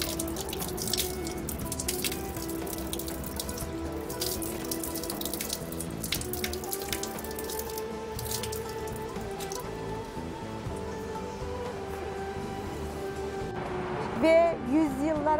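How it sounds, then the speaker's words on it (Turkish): Water runs steadily from a historic public fountain in the courtyard of an Istanbul mosque, a continuous splashing flow heard close, with faint ambient sounds and a brief louder splash near the end. "Gene bu sudan içelim bu tarihi çeşmede."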